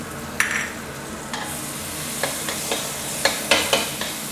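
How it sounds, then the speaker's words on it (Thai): Chili, garlic and shrimp paste stir-frying in a little oil in a wok for glass noodles with water mimosa, a soft continuous sizzle broken by several short scraping stirs. "ผัดสักครู่นึงก่อนนะครับ ให้หอมก่อนนะครับ"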